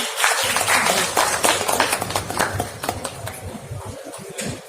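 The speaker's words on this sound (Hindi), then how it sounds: "मैं चाहूंगा जोरदार तालियां इनके लिए बजाते हैं" Sustained applause from an audience at an awards ceremony, dense and steady clapping that gradually thins out toward the end.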